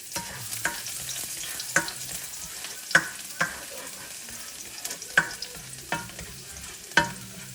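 Garlic sizzles in hot oil for beef tacos, the soft continuous frying broken by a spatula stirring and tapping against the pan every second or so.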